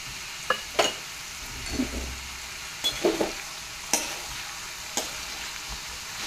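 Vegetables including tomato and carrot are stirred in a pan, a faint sizzle under scattered scraping clicks from the spoon, spaced out and quiet.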